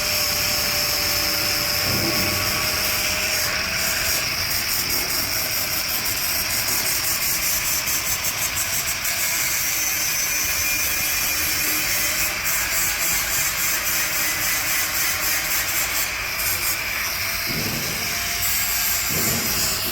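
Factory grinding and polishing of a premium stainless steel work table, a loud continuous abrasive whine and hiss with rhythmic pulsing, steady throughout with no talk.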